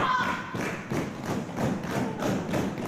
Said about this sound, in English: JT Dunn coming across the chest with those elbows